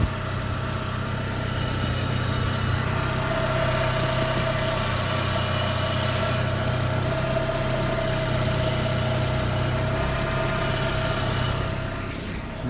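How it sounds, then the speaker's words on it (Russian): Renault engine idling steadily with a thin, sustained whine from the power steering pump as the steering wheel is turned, continuous and fairly close, with no talking. "У нас шумит ГУР."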